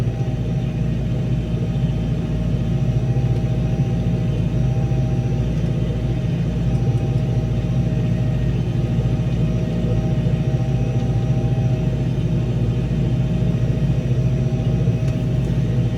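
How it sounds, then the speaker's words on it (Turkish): A New Holland TR6.130 tractor ploughs deep through a wet, muddy field, its engine droning as a steady low rumble that stays constant and loud throughout, with no voices over it. "Şu an e, bayağı derin sürüm yapıyoruz."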